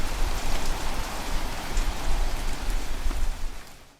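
Heavy rain pounds a house roof like falling blocks of ice, a dense, loud, continuous roar of drops with low thuds that fades at the very end.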